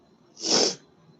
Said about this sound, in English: I'm sorry I have the sniffles.